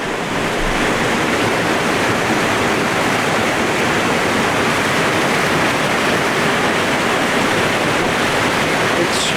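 Heavy floodwater rushing through a culvert under a road and pouring over a small dam on an off-grid homestead, a loud, steady broadband roar that continues unbroken from start to finish.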